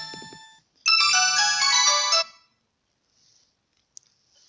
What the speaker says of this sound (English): I am receiving a phone call